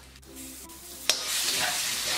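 Chilli paste and garlic sizzle in a hot pan and get stirred, a steady close frying hiss that swells after a sharp scrape or drop midway, with soft stirring under it and no talk.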